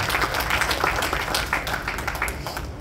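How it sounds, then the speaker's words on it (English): Church congregation clapping their hands together during a sermon, a dense, continuous patter of many hands at moderate loudness filling the short stretch without a break. "Can we clap our hands unto that in Jesus' name?"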